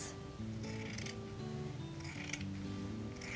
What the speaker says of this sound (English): We're going to cut up the cloth